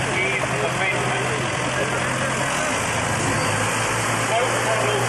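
A turbocharged 3.9-litre four-cylinder John Deere diesel engine idles in a steady, unbroken drone with a constant mechanical hum, loud and close throughout.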